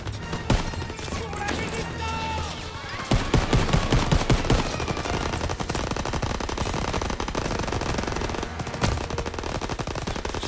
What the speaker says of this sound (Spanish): Señores, me están disparando y no sé desde dónde.